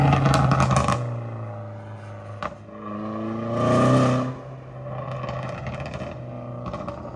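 Opel Corsa D OPC fitted with a full straight-through exhaust, loud and close, revving in bursts with a rising surge mid-clip and rough crackling between pulls.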